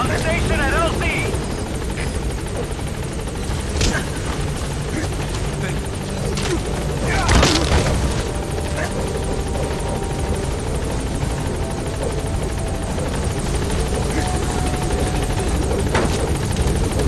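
A helicopter arriving at a landing zone in the video game Metal Gear Solid V, loud continuous rotor thumping and engine whine throughout, with radio-style voice chatter over it.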